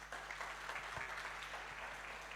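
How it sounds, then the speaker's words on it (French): A church congregation claps in a steady, dense patter of applause, fairly quiet, with a low hum underneath. "Applaudis plus fort l'autre fois."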